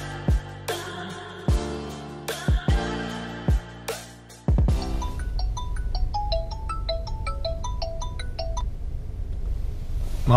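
A phone call rings out through a handset earpiece, first as a few loud separated tones, then giving way to a faint, quick repeating electronic ringback melody over light background hiss, with no talking.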